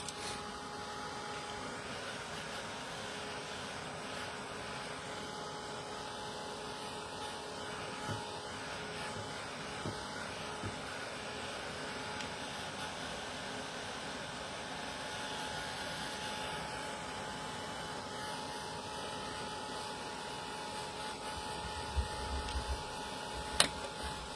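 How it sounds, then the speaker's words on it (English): A heat tool blows continuously while drying watercolour paint, producing a steady even whooshing hum that stays constant for the whole stretch, close and moderately loud with no talking. "let me just give it a quick heat tool to dry some of it out"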